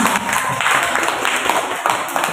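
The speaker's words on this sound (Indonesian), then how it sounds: "tepuk tangan dulu semuanya" Students in a school classroom clap together in a brisk, fairly loud round of applause that keeps going with a loose, uneven rhythm for a couple of seconds.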